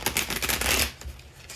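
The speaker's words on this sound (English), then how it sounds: "Last shuffle. A little ugly, but these cards are pretty stiff." Stiff Hip Hop Queens divination cards being shuffled produce a quick burst of riffling flaps and clicks for under a second, then a quiet settle, close up and with no voices.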